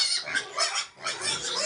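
Pet pigs on a pig farm grunt and squeal in quick overlapping bursts, close and fairly loud, a short run of hungry noises with no talking.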